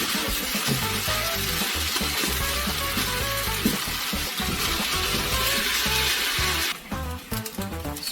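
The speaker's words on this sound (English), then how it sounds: "So I'm gonna let this fry on very high heat." Food frying in a pan on very high heat, a loud continuous sizzle up close that dominates throughout, broken near the end by a few clattering stirs.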